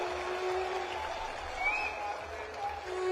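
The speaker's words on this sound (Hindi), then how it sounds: "एक बार जोरदार तालियां" A crowd at an Aam Aadmi Party rally speech claps in a short burst of applause, a dense wash of clapping with some crowd noise mixed in.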